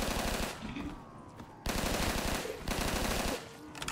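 Rapid automatic gunfire in a round-based survival video game, loud bursts of machine-gun fire in two long strings with a short pause between, no talk.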